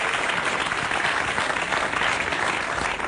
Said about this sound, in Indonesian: Oke, tepuk tangan buat Aco sekali lagi